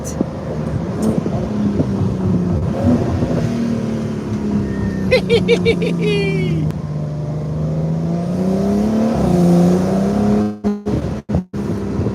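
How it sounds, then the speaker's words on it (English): A paddle-shift car in Dubai revs hard and drops through racing downshifts: a close engine drone rises and falls in pitch, with sharp throttle blips midway and choppy cut-outs near the end. "I've got flappy paddles so I can do racing downshifts."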